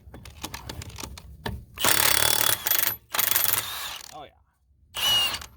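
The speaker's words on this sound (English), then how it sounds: "We'll see if we can pop off the lug nuts off this one" A cordless impact wrench, Milwaukee Fuel or Ridgid Octane, hammers at lug nuts on an old Caterpillar machine in loud, rattling bursts of a second or so separated by pauses, with a short spoken remark between them.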